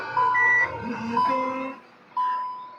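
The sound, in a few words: reversing beeps from a Hyundai i20 Asta's reverse camera system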